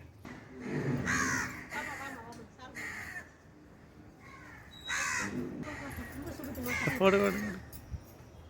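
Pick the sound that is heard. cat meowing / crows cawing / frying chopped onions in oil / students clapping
crows cawing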